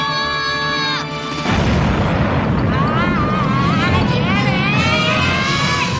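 Cartoon rocket launch from the animated film Jimmy Neutron: Boy Genius, with a loud roaring blast that erupts and sustains under music, with whistling tones rising over it.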